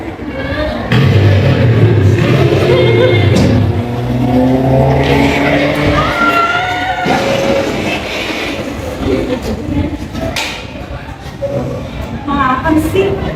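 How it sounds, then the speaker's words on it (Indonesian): A motor vehicle races past at high speed on a road, sounding a loud horn over a rushing engine roar that fades out; voices talk throughout. "sebuah kendaraan bermotor melaju dengan kecepatan tinggi"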